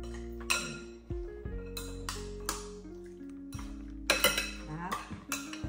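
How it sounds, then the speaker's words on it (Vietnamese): Meat being mixed with pepper in a bowl, sounding as a series of close, irregular ceramic clinks and utensil knocks with ringing tones, about a dozen distinct hits over a quiet background. "Dung trộn đều lên, trộn đều lên"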